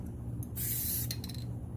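A single short hiss of a spray bottle releasing a light mist over a glitter tumbler, close and soft, over a low background hum.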